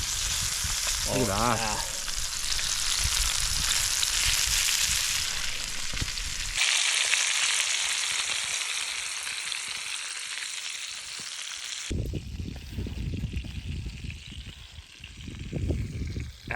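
Brook trout sizzling in a frying pan for a shore lunch on thin ice in Ontario, a steady loud frying hiss throughout with brief spoken remarks and outdoor noise.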